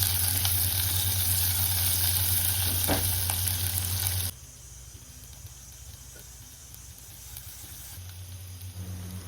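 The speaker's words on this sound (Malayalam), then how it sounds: "ഇതിലേക്ക് 3 ചെറിയ സവാള ചെറുതായി അരിഞ്ഞത് ഇട്ട് അടച്ചു വെച്ച് വേവിക്കുക." Chopped onions frying in oil in a pan after mustard seeds have spluttered, a loud steady sizzle that drops to a quieter hiss partway through, as if covered, then rises again briefly.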